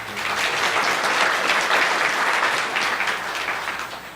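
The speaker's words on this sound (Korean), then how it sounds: "박수 한 번만 쳐주세요" Dense, even applause from a conference audience thanking a presenter after a talk on testing and refactoring, a full room clapping together at a steady level that eases slightly near the end, with no voices over it.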